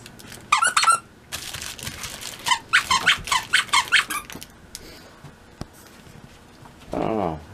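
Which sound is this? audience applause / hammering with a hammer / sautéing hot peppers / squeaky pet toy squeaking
squeaky pet toy squeaking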